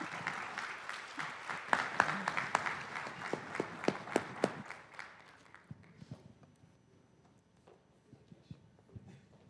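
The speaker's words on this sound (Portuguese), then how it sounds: "Uma salva de palmas para ele, pessoal." Audience at a federal justice symposium on procurement and contracts applauds, a burst of dense clapping that tapers after about five seconds into a few scattered claps in a quiet hall.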